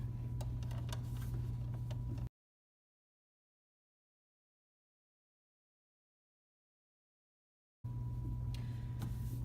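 A sewing machine stitches a child's zipper coverall, giving a steady, close mechanical whir with light ticking, heard in two short stretches separated by a long silent gap.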